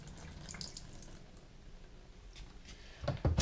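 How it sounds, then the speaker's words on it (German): Soaking water is poured out of a sprouting jar holding germinating seeds, heard as a quiet splashing trickle that grows louder into a short gush at the end. "deswegen würde ich jetzt das Wasser raustun."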